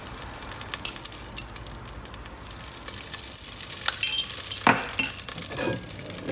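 Canola oil sizzles in a hot pan while Japanese curry is being made, a steady frying hiss with soft clinks and scraping stirs, and louder crackling bursts toward the end.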